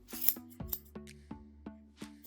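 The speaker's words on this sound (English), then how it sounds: "So take your sharp scissors and clip all those loops" Sharp scissors clip through loops of yarn for a pom pom, with about seven crisp, close snips in a quick irregular rhythm and no talking.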